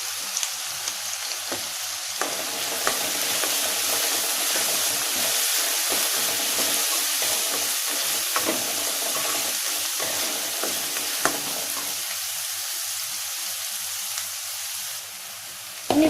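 Banana stem stir-fried with chili flakes for thoran, a steady close sizzle and crackle of frying in a pan with occasional stirring scrapes, continuous throughout with no talk.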